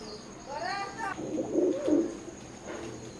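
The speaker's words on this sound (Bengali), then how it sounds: "স্ক্রিনে এখন যে কবুতর জোড়া দেখতে পারতেছেন ওমান ব্লাড লাইনের রানিং এক জোড়া কবুতর" A pair of Oman-bloodline Teddy pigeons gives a soft, low cooing call, with a few close, fairly clear coos over faint background noise and a brief higher chirp near the start.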